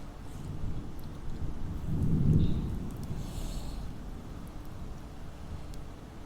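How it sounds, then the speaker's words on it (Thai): Steady rain hisses throughout while a low thunder rumble swells and fades midway, heard at a distance with no talking. "ฝนตกเนาะ"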